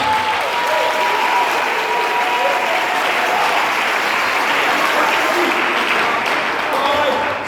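A church congregation claps steadily and loudly for the whole stretch, a dense sustained applause with voices mixed in, at a French-language worship service.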